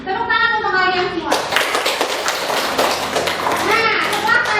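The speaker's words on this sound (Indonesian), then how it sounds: "Tepuk tangan untuk kalian semua." Students applaud in an Indonesian classroom, a dense burst of clapping that rises after a voice and mixes with children's chatter and voices throughout.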